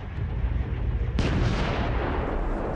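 A loud, rumbling blast from an overworked machine exploding aboard the steamboat Sultana in 1865, a continuous heavy roar that surges sharply about halfway through and stays loud, with no voices.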